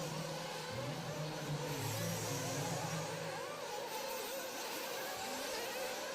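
Race cars rev and drone around the track during qualifying at the Silver State Championship, overlapping engine notes rising and falling in pitch as they pass, moderately distant, with faint commentary.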